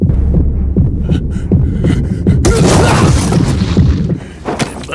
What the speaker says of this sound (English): he kills his enemy with literally his heartbeat